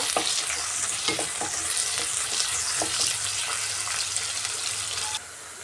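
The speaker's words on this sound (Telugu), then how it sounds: "ఒక ఎర్రగడ్డ పెద్ద సైజు సన్నగా కట్ చేసి ఫ్రై చేసుకుందామండి" Thinly sliced large onion sizzles and crackles in hot oil for a mutton liver fry, with a continuous close frying hiss and occasional stirring scrapes, no talking.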